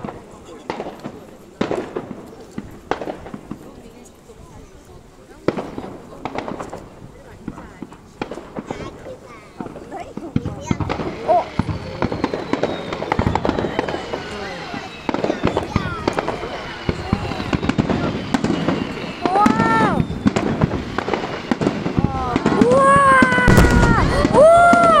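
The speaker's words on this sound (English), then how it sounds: "That was the best fireworks show." Fireworks show seen from a spot with a nice view: repeated sharp bangs and crackling bursts, sparse at first and then building into a dense, loud barrage with whistling rises near the end, while people talk nearby.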